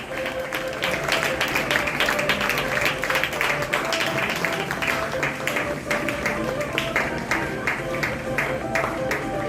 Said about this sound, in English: yes, a round of applause for everyone.